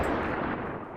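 Flak 38 anti-aircraft gun firing from a WW2 half-track in the Arma 3 game, a dense, continuous roar of rapid gunfire at close range, steady and loud for the whole second with no pauses and no speech.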